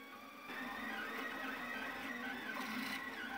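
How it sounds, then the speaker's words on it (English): Anycubic Kossel delta 3D printer running fast, with steady stepper motor whine and buzzing plus a skipping extruder motor feeding filament into the hot end, close and continuous throughout. "When printing a bit faster than before, I noticed that the extruder motor is skipping while moving the filament into the hot end."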